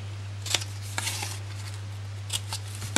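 Scissors snipping through patterned paper to notch flaps on a Stampin' Up Star of Light gift box, giving a few crisp, separate cuts over a steady low electrical hum in a quiet room.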